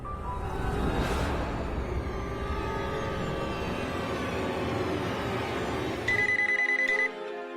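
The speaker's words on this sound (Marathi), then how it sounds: "हॉस्पिटलमधून फोन आहे." A telephone rings with a bright repeating electronic tone near the end, after a stretch of steady background music.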